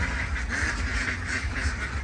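Ducks quacking on a small backyard duck farm raising laying ducks, a dense overlapping flock calling continuously, close and steady.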